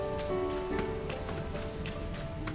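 Steady patter of rain in a video game falling on a surface, a continuous soft hiss with scattered droplet taps and a faint low tonal hum underneath.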